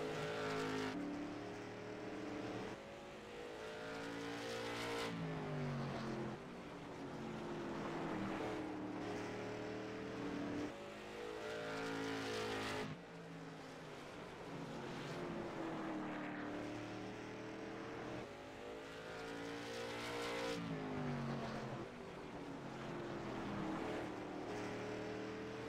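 Race cars circle South Boston Speedway during the Papa KARS Memorial, engines droning loud and steady for the whole span, rising and falling in pitch as cars pass, with no talk.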